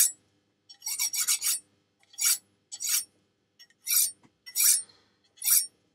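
Honing steel strokes removing the leftover burr from a meat grinder knife, a series of short bright rasping scrapes in uneven bursts, close and clear with no talk.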